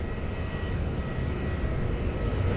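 A jet airliner departs from Sydney Airport on a long-haul flight, its engines a broad, steady roar that sounds fairly loud and at a moderate distance, with no voices.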